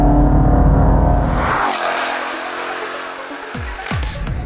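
A street-legal race car engine roars loudly, then drops to a rumbling idle before revving sharply again twice near the end.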